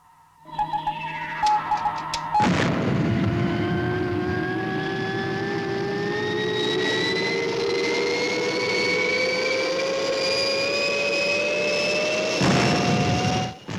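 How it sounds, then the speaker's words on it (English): A TV sound effect of the XL1 spacecraft launching from its launch rail: after a brief lead-in, a loud sustained jet-like roar sets in with a steadily rising whine and carries on for about ten seconds. "As soon as XL1 has cleared the launch rail, we'll prepare Fireball XL5 and track Robert"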